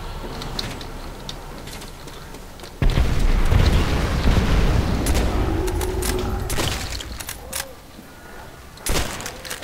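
Booming explosions and rumbling blasts in Call of Duty: World at War Nazi Zombies crash loudly, followed by scattered gunfire pops and debris, one large burst dominating the middle.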